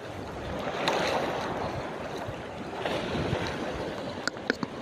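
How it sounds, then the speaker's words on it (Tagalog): Strong sea waves surging and washing against slippery rocks on a shore during a fishing outing, a continuous close rushing roar with a few sharp splashes near the end. "Lakas ng alon."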